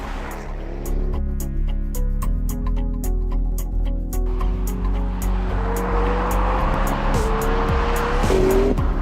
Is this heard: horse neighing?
no